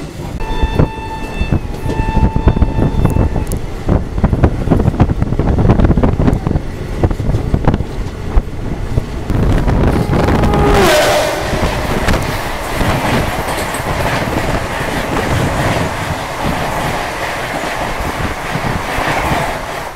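Tripura Sundari Express, train 14619 from Agartala to Firozpur Cantonment, rolling past on a railway curve: a loud, continuous roar of wheels and coaches with a horn early on, rumbling steadily close by.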